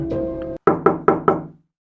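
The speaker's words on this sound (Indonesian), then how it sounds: "ketukan itu semakin keras" Four sharp, evenly spaced knocks on a door ring out close and loud as a sound effect, following a brief low rumble, then fading into silence.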